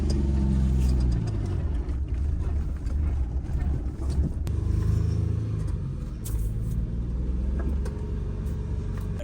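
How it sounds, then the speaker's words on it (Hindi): A car engine idling and rumbling at close range while the car is backed up, a loud steady low drone that swells and eases slightly over its length. "मैं फिर गाड़ी को बैक कर देता"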